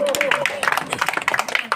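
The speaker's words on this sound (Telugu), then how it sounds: "పెద్దగా చప్పట్లు కొట్టాలి" Scattered clapping from a crowd at a Sankranti rangoli contest prize-giving, a dense patter of hand claps running under a speaking voice throughout.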